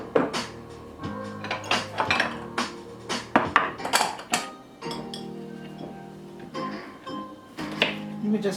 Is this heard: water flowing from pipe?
no